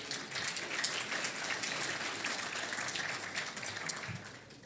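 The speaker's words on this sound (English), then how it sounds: "Give them a nice round of applause." A gala awards crowd at the Elmhurst Chamber of Commerce 100th anniversary applauds steadily, a dense wash of many hands at moderate distance with no talking over it.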